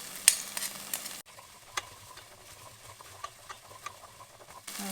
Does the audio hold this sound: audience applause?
no